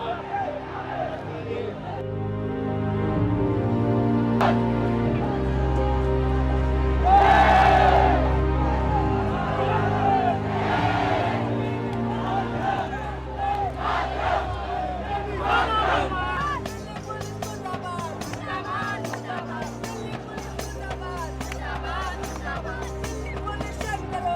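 A crowd of protesters gathers at a CJP protest, facing police behind barricades, with flags waving and light drizzle falling. Their steady, murmuring babble carries under close talking and fluctuating background sounds.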